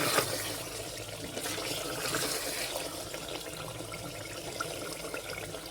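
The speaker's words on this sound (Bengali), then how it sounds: "এখানে আমি জল দিয়ে দিচ্ছি" Water poured into a pan of spiced mutton curry, a steady trickling splash running for several seconds at close range with no voices.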